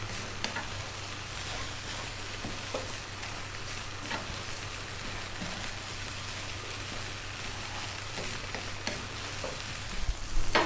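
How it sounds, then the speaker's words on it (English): Food sizzling steadily in a hot pan as it is stirred and folded over, a continuous close frying hiss with occasional scraping stirs, ending in a brief louder clatter; no talking. "we're just going to be folding this in and turning it into itself"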